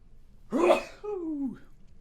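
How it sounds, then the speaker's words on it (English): A single close sneeze: a sharp breathy burst followed by a voiced, trailing exhale. "I'm going to sneeze."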